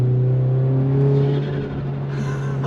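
A VW Golf R Mk7.5 with a DSG gearbox drones loudly and close, a steady engine hum that dips briefly midway as if shifting, then settles back, with no talking over it.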